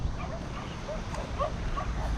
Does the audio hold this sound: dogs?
yes